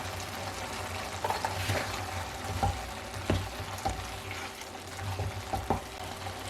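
Masoor lentils being stirred in a cooking pot: a spoon scrapes and knocks against the pot with scattered soft clicks over a low, steady simmering bubble, no voices.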